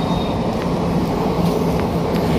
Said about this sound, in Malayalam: ഈ ട്രെയിൻ നോർത്തിൽ നിന്ന് സൗത്തിലേക്ക് യാത്ര ചെയ്യുകയാണ്